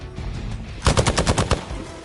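Gunfire in Marvel's Midnight Suns: after a quiet stretch, a rapid close burst of about eight loud, evenly spaced automatic shots, heard alone.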